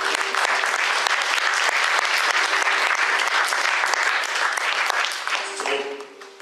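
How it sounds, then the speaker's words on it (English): A church congregation claps their hands in praise, a dense sustained burst of applause that holds steady before tapering off at the end as a voice briefly comes in. "Clap your hands and praise God."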